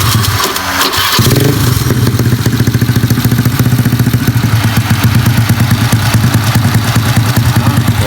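A 130cc carbureted motorcycle engine starts up and settles into a steady, loud, rapid idle with a regular pulsing rhythm close by.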